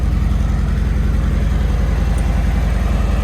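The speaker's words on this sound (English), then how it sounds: "pretty nice running bike. Sounds really clean and healthy for the most part." A damaged 2020 Harley-Davidson Road Glide Special with a bent exhaust runs at a steady idle, a loud, close, low rhythmic engine throb that holds even throughout.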